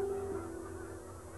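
Geese on a spring migration stopover honk faintly in the distance, a brief nasal call over a steady low outdoor hum.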